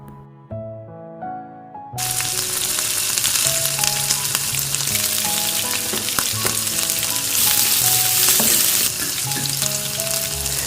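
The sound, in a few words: mustard seeds frying in oil for tempering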